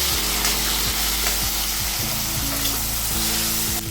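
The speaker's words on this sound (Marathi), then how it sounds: "आता मी त्याच कढाईमध्ये कट केलेले टोमॅटो घालते।" Chopped tomatoes sizzle and fry steadily in a hot kadhai after onions, a continuous close crackling hiss with light stirring scrapes throughout, no voices.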